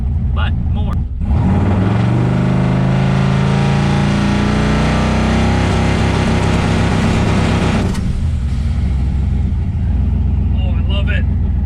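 Twin-turbo Chevrolet Malibu engine loud and close during a trans brake test, climbing in pitch as it builds revs for several seconds, then cutting off abruptly near the end, with talk over it.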